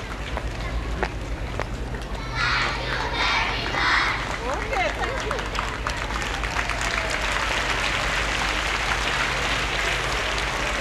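Applause for Saint Lucia Independence Day, a sustained crowd clapping that swells after the first couple of seconds and continues at moderate volume over a low background hum.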